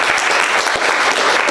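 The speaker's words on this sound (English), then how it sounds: "Big round of applause for Preston." Dense audience applause at a student improv comedy showcase, welcoming a volunteer onstage; loud, even, continuous clapping from a full room throughout.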